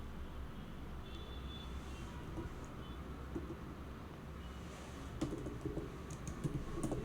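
Faint keystrokes on a computer keyboard, a quiet run of soft clicks over low background hum, growing a little busier toward the end.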